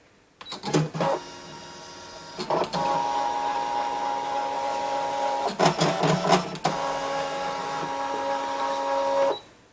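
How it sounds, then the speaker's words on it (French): A Brother ScanNCut cutting machine runs a cut, with a steady motorised whir and intermittent louder bursts of carriage movement and clicks, close and alone with no talk. "Je vous zoome ici sur l'espace de travail et puis on va lancer la découpe."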